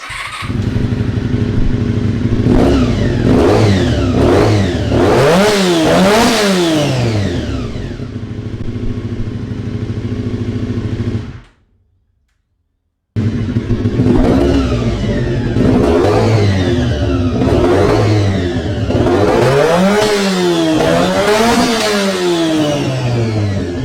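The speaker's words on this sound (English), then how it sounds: "let's rev it up and give it a score" Moto Guzzi V85 TT adventure motorcycle engine revving hard in repeated loud bursts, rising and falling sharply, then a brief cut to silence before more aggressive revs close by.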